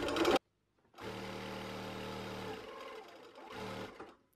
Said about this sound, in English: And then you want to just sew.